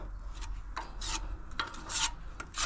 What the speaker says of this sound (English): put a bit of grease on the splitting knife